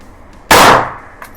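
A single sharp gunshot from a ported CZ P10C pistol cracks loud and close, its report decaying quickly, followed by a faint echo.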